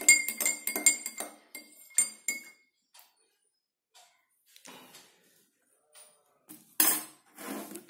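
A spoon stirs oil into water in a glass beaker, giving bright clinks and taps against the glass: a quick cluster at first, then sparse knocks after a quiet stretch, and a sharper clatter near the end.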